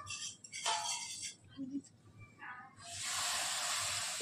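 Hot oil poured into a gram flour mixture for Mysore pak sizzles into a loud, steady hiss that builds and holds near the end, following quieter kitchen handling sounds.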